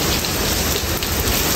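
Heavy rain pours during a thunderstorm in Multan, a dense, loud, unbroken hiss of falling water over a short stretch.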